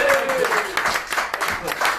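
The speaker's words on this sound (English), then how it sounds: "Let's have another round of applause for the award winner!" Applause for an award winner at a football club's end-of-season awards night, a short spell of crowd clapping at steady volume with voices talking over it.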